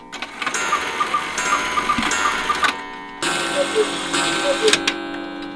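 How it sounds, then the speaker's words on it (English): A large handmade Black Forest cuckoo and quail clock ticks steadily and close by in a clock repair shop, a regular mechanical beat under a man's speech. "This large clock here, it's a cuckoo and quail clock, which makes it a little bit more unusual than just a standard cuckoo clock."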